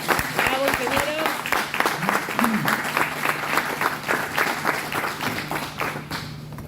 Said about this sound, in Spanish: Un aplauso. Bravo, ingeniero.